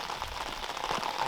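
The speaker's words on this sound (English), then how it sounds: "When the raindrop are very big like that, it's going to create a lot of little bubbles at the impact" Large raindrops striking a freshwater lake, heard from underwater: a steady dense fizzing drizzle of many tiny impacts and bubbles, faint and continuous throughout.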